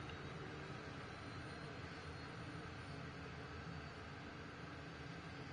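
Aircraft engines run steadily in Microsoft Flight Simulator 2024, a constant broadband turbine roar that stays even and unbroken throughout with no voices.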